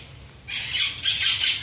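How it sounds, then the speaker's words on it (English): A red-tailed black cockatoo at Jungle Island in Miami lets out loud, harsh, rasping squawks close by, two or three grating calls in quick succession. "It's a red-tailed black cockatoo."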